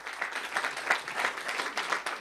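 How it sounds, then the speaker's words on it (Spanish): Steady applause from a crowd at an acoustic music concert, rippling evenly for a couple of seconds with no voices over it. "Fuerte aplauso para él, por favor."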